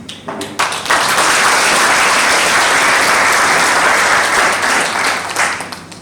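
A crowd at a graduation party in a Juba hotel gives a sustained round of applause for a general and his colleagues, loud and dense for about five seconds before tapering off.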